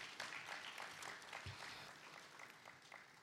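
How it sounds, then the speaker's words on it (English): Audience at an African blockchain conference applauding to welcome a panelist, continuous crowd clapping throughout at moderate level, with one brief low thump partway through. "Please, a round of applause for him."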